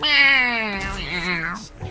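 A house cat gives one drawn-out, falling meow lasting over a second, close and clear, followed by a shorter trailing cry.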